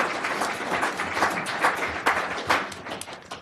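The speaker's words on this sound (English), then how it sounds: "Give a big round of applause." Applause from a conference audience after a military panel on air and missile defense, a dense, fairly loud patter of hand claps lasting a few seconds with a few sharper individual claps.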